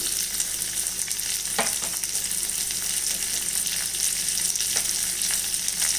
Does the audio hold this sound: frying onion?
yes